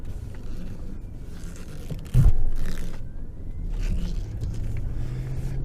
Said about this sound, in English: This bit of road here is really rough, so I use it for checking the suspension.